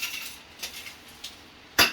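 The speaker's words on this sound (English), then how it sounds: "we fill up cocktail glass with a little ice" Ice cubes clink and rattle into a cocktail glass in a small kitchen, a few light chinks and then a louder, sharper clatter near the end, with no talking.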